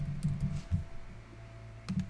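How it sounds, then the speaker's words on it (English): Close, quiet typing on a computer keyboard, with a few quick clusters of soft key taps separated by a longer pause near the middle, all alone over a faint room hum. "I would just type in acquisitions."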